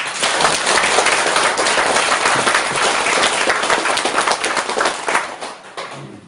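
A lecture audience claps together in a dense, sustained burst of applause that tapers off toward the end.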